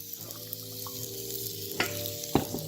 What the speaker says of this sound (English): Just gonna brulee off the bottoms of these veggies.